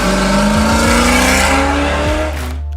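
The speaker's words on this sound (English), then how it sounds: "The car is loud." A loud, deep supercharged 1970 Dodge Charger R/T engine rumbles up close, revving and roaring steadily before easing off at the end.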